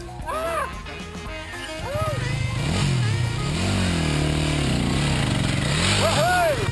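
Enduro adventure motorcycle ridden on a trail, engine revving up and down in repeated throttle swells, close and loud, with wind and rattling over the top.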